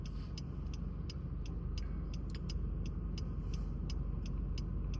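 Steady low rumble inside a moving car on the way to a gym, with continuous road and engine noise and faint ticking clicks over it, no voices.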